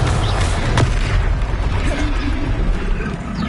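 A Confringo spell explodes in Hogwarts Legacy during combat, a loud deep boom with a sustained low rumble filling the short stretch.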